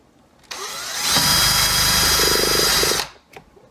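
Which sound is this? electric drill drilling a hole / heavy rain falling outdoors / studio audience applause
electric drill drilling a hole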